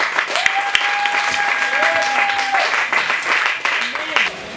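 A church congregation applauds and cheers loudly together, a thick continuous clapping with raised voices and whoops rising over it, and a voice calling out in the middle.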